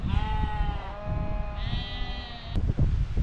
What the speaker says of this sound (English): my video has just been ambushed by a gang of sheep.